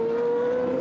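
A Formula V8 3.5 race car drives at the Paul Ricard circuit, giving a steady, sustained engine whine at high revs for a brief moment, moderately distant, with no talking.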